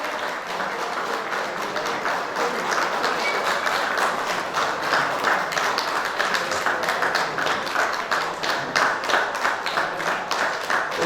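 Steady applause from a crowd fills the space during a photo unveiling on a display screen at an event, sustained evenly throughout with a dense patter of many hands clapping.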